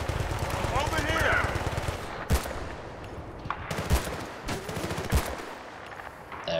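Rapid machine gun fire in the Battlefield: Bad Company 2 campaign, a steady low rattle of bursts, then sharp scattered gunshots amid loud combat.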